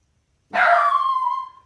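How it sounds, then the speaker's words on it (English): A single dog bark or yelp breaks sharply out of silence, then trails off in a drawn-out whine, fairly close and clear, heard indoors during a coil basket weaving demonstration. "let the dogs out"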